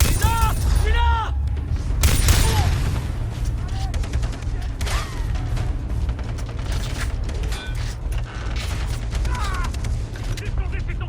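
Busy gunfire and mechanical clatter from the video game Far Cry 3, rapid shots and rattling weapon noises layered over a low rumble, with a voice speaking over parts of it.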